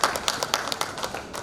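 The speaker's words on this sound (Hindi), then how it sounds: "जोरदार तालियों से स्वागत कीजिए।" An audience claps to welcome a chief guest, an advocate of Patna High Court, at a stage event: a brief, moderately loud burst of scattered, uneven hand claps with no voices over it.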